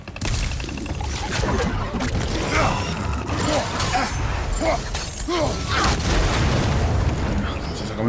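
An explosion in God of War Ragnarok: dense, continuous rumbling and crashing debris with booming impacts and grinding mechanical noise, loud and sustained throughout, with a voice speaking among the chaos.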